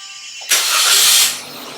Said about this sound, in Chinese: 再来发动车子哦